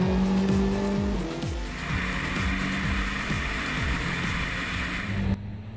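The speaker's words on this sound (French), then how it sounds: "Merci Jean Ragnotti pour ce tour du circuit du Nürburgring" Renault Clio R3T race car lapping the Nürburgring circuit from onboard, its engine loud and close, revving up and dropping through quick gear shifts with repeated rising sweeps and some tire noise, no talking.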